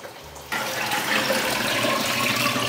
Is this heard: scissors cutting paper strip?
no